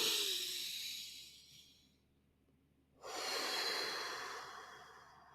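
A deep, slow breath drawn in and released as a relaxation exercise, a long airy inhale fading to near silence before a second strong exhale, close and alone with no talk.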